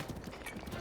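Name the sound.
horse hooves clip-clop in video game Zelda Breath of the Wild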